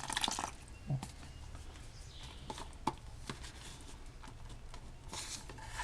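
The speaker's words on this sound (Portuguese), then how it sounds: "Eu vou acrescentar um pouquinho d'água." Water poured into a sand and cement paste being mixed for a plant pot, heard as faint intermittent dripping and splashing taps with wet scraping, close by and quiet, without talking.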